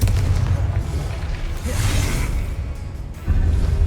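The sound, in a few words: Confringo spell explosion effect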